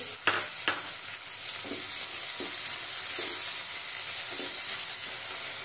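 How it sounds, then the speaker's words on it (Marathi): Onions sautéing with half a spoon of salt in a pan give a steady close sizzle and hiss, broken by a few soft scrapes and stirs of the spoon, with no talking. "इथे आपण कांदा परतून घेतलेला आहे"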